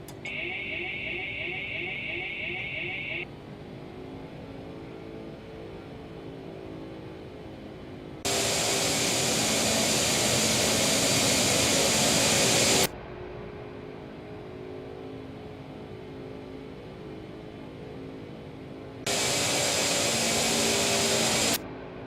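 Steady broadband roar of Felis 747-200 jet engines at full power in the X-Plane 12 flight simulator, loud and continuous, with two louder surging stretches and brief tonal cockpit beeps early on.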